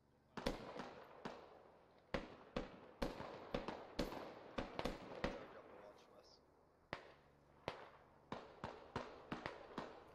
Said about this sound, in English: There's movement by fire, so they're firing at every bush before they push in.